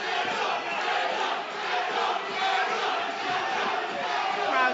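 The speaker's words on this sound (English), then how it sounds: "Crowd getting behind the fighters." Loud, steady roar of a big arena crowd cheering at a UFC mixed martial arts event, swelling and dipping without a break across the whole stretch, with no talk over it.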